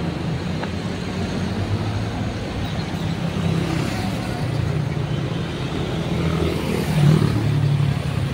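Rush-hour city traffic in Davao City's urban zone between Ecoland and Matina: cars and motorcycles pass in a continuous, dense engine roar and road noise, swelling slightly near the end.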